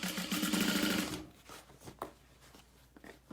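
A sewing machine stitches through vinyl for a tote in a fast, close, rapid chatter for about a second, then stops, leaving soft handling clicks and rustles.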